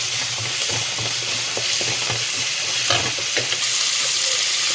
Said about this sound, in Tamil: இது தக்காளி, பூண்டு, வெங்காயம் எல்லாம் கொஞ்சம் லைட்டாக நல்லா வணங்கிடுச்சுங்க.